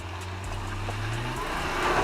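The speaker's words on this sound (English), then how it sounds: "With active wheel spin and zero lack of torque, the XC70 flies over the central part of the climb and stops at the final obstacle." A Volvo XC70 engine drones steadily as its wheels spin while it climbs an off-road obstacle, a low, close rumble that swells slightly toward the end of the brief stretch.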